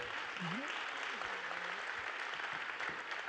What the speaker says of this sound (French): Vous pouvez l'applaudir encore une fois.